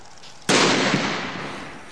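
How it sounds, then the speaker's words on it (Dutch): Illegal fireworks, made with a more explosive, more powerful powder, set off in a demonstration in Rijswijk. A single loud, close blast bursts suddenly and then fades into a long, crackling hiss. "Dat is illegaal vuurwerk."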